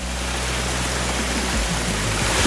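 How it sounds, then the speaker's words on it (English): Small waterfall at Banyumala in North Bali, heard up close as a loud, dense and unbroken roar of rushing water with a deep low rumble underneath. "we're crossing through a small waterfall just to get here"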